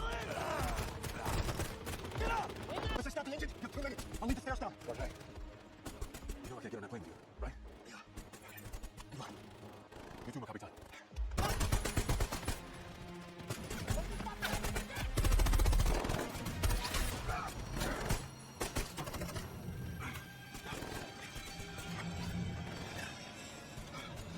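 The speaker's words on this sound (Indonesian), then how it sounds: "Di tengah baku tembak, tiba-tiba Gaspar kehabisan amunisi." Rapid bursts of gunfire during a shootout in the action film Plane, dense and loud, mixed with crashes, impacts and a heavy score over about twenty-four seconds.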